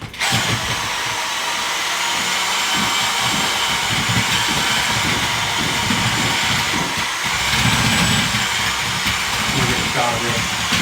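A power drill mixer whirs steadily as it spins wet grout in a bucket, a loud continuous motor whine with churning and scraping underneath, and someone talks over it.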